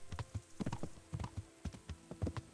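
Horse hooves clip-clop at a steady walking rhythm in the video game Kingdom Come: Deliverance, fairly close and moderately loud, with short regular thuds and nobody talking.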